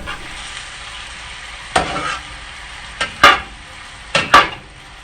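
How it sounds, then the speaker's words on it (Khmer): Peas and carrots tossed into shrimp fried rice in a hot pan, with a steady soft sizzle broken by three loud scraping tosses of the utensil against the pan, close and sharp. "Add peas and carrots. Toss again."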